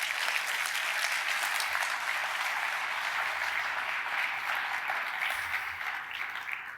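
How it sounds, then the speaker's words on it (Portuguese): A church congregation applauds steadily, a dense and even wash of clapping from many hands that holds for several seconds before easing slightly toward the end. "Você pode dar um aplauso ao nome do Senhor por isso?"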